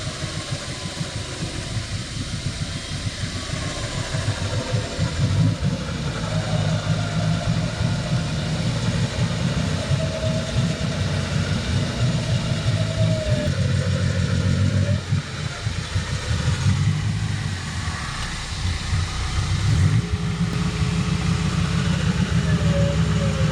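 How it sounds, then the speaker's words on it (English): A 4x4 engine runs in low range while winching, a steady mid-pitched rumble that rises and falls slightly as load changes, loud and continuous with no talk. "I'm gonna hop in, start winching. I'll just have it in first gear, maybe even second gear, low range."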